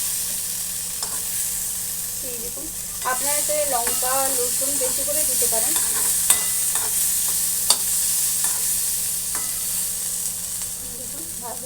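Pointed gourd (potol) frying in a pan for a bharta, a steady sizzle with occasional scrapes and knocks of stirring, while someone speaks over the cooking.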